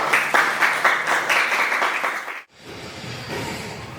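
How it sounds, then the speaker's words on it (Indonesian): A classroom of students claps together for group Uluwatu, rhythmic and loud at first, then stopping abruptly and giving way to quieter room noise. "tepuk tangan buat kelompok Uluwatu"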